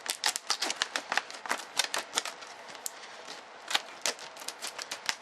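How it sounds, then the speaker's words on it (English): Scissors cut through stiff plastic clamshell packaging on a boxed underwater camcorder, giving a rapid, uneven series of close, sharp snips and crunches with no talk. "I'm thinking that scissors are going to be the best way into this one."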